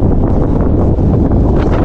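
Strong wind blowing sand in open mountain country buffets the microphone in a steady, loud low roar with gusty rustling, continuous throughout and no voices.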